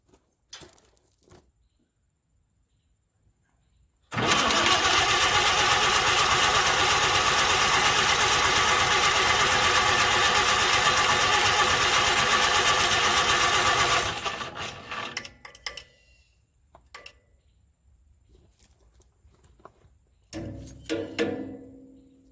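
A McCormick Deering type M stationary engine fitted with a fuel pump starts abruptly and runs with a loud, fast, steady clatter for about ten seconds, then cuts off and coasts down into scattered clanks.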